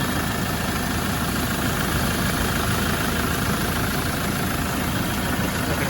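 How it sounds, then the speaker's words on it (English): A warm 2007 Land Rover Defender 90 with a 2.4 TDCi diesel engine idles steadily, a loud, close, even diesel clatter and low rumble continuing without change. "quick video of the engine running on this 2007 57 plate Defender 90"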